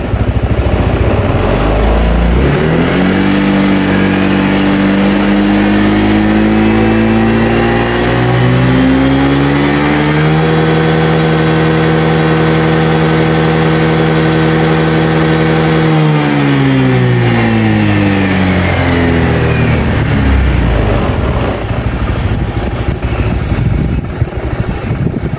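A Honda Vario 160 scooter with an upgraded CVT revs up from idle to a loud, sustained high-RPM drone that holds steady, then winds back down, close and alone.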